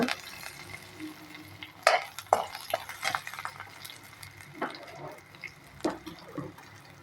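Cumin, mustard seeds, garlic and curry leaves fry in oil for a Kannada-style dal with drumstick, giving a faint sizzle broken by scattered sharp clinks and scrapes of a spoon stirring in the pan.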